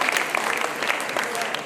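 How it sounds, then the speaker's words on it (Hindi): University audience in Hanumangarh claps loudly for themselves, a dense burst of applause running continuously for under two seconds. "एक बार तालियां बजाइए अपने आप के लिए जोरदार।"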